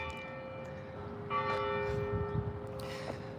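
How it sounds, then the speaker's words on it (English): The Elbert County Courthouse clock in Elberton, Georgia chimes three evenly spaced bell strikes, each ringing on with a lingering tone, heard at a moderate distance over quiet outdoor background. "You may have just heard the clock chime 3 times."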